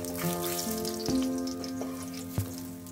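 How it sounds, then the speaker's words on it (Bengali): Coral fish pieces frying in hot oil for a curry give a steady, close sizzle with a few sharper crackles, over a constant tonal hum in the background. "মাছের পিসগুলো ভাজা হয়ে গিয়েছে"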